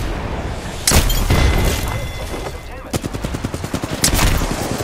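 Gunfire in the Apex Legends video game: sharp single cracks, then a rapid automatic burst of evenly spaced shots and another heavy blast, close and loud, with brief talk mixed in.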